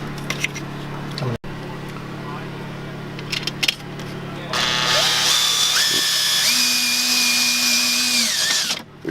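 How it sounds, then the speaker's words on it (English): A cordless power drill whirs in short bursts and then runs a long steady spin, removing self-tapping screws inside a Sprinter van during electrical wiring work, close and loud with small clicks and handling noise before it. "So I'm going to pull these bolts, these screws right here."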